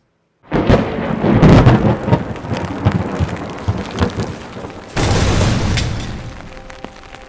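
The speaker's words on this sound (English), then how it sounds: "We had a storm cell that was so strong, producing over 80-mile-an-hour winds." Violent thunderstorm with winds over 80 mph, loud rumbling thunder and gusting roar from the start, easing then a second strong burst of wind and rain near the end.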